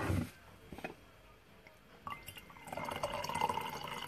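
Tea poured from a pot into a cup during a live tea tasting, a soft trickle of liquid that starts, pauses, then swells into a steady, close pour.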